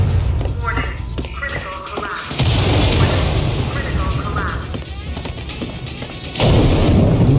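Booming explosions from the video game Alien: Isolation erupt in loud bursts, two heavy blasts standing out, while a person talks over the rumbling action.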